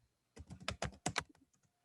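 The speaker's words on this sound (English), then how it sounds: "typing it in the chat" Rapid computer keyboard typing in short, uneven bursts of key clicks, quiet and close, with no voices, tapering off into a few scattered final keystrokes.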